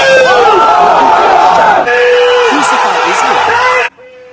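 Loud crowd voices chant together at a protest rally, a dense, rhythmic mass of shouting that carries on for several seconds before cutting off abruptly.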